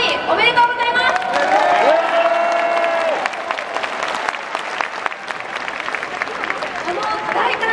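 A baseball stadium crowd of Hokkaido Nippon-Ham Fighters fans roars and applauds in a dense, loud wash at a post-game hero interview, while an announcer's amplified voice rings out over the cheering.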